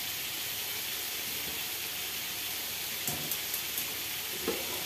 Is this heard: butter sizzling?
yes